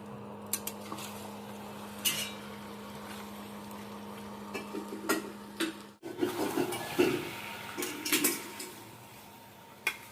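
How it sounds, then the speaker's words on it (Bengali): A child plays with a metal tiffin box indoors, banging and rattling it in irregular clanks and knocks, close by, while a kitchen hum runs underneath and chicken cooks nearby. "ও টিফিন বক্স নিয়ে খেলা করছিস ফাটাস না বাবা"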